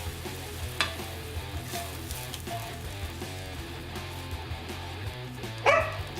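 A steak, garlic and fajita mixture sizzles steadily in a hot pan, a continuous close frying hiss with occasional stirring scrapes and a brief louder clatter near the end.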